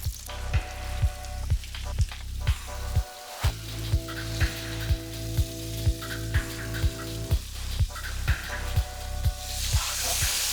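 Pork fillet searing in a hot pan gives a steady, close sizzle and crackle, broken by a brief pause partway through, with faint regular clicks underneath and no talking.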